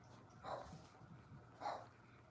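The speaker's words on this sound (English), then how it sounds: "Yep, that's my dog, Jared" A dog gives two short barks or yips, faint and somewhat distant, spaced about a second apart over low background noise.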